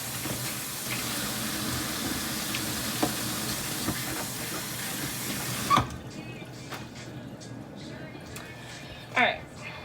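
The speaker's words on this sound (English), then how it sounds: "I'm gonna wash my hands though real quick." Tap water runs steadily into a sink while hands are washed during guacamole prep, a constant close hiss that cuts off partway through, leaving quiet handling sounds and brief clatters.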